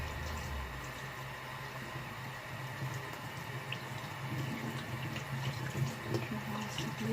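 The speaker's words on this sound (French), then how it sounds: "on rince le quinoa avant de le cuire pour enlever son goût amer" Quinoa is rinsed under running tap water, a steady close hiss and splash of water flowing into a sink that continues for the whole stretch.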